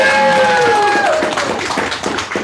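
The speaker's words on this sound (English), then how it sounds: "Give them a round of applause." A packed meeting room gives a short burst of audience applause, dense clapping with a few voices over it at the start.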